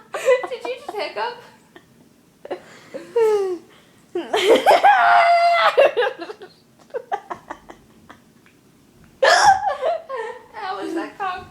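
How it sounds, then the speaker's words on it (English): A person hiccups among bursts of laughter and chatter indoors, the sharp hiccup sounds close and loud amid giggling voices. "Did you just hiccup?"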